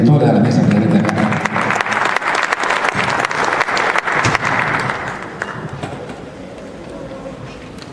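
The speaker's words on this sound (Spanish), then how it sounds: "Un fuerte aplauso para todos los alcaldes y toda la mesa que está acá." An audience at a conference of mayors from southern Peru applauds loudly, a dense wash of clapping that holds for about five seconds, then fades to a quiet room murmur.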